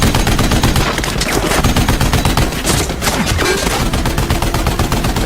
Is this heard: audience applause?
no